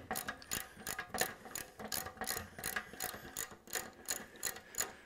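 Ratchet wrench fitted with an Allen head socket loosening a bolt on a Knucklehead chopper motorcycle, a steady run of quick rapid clicking bursts, close and clear, with no talking.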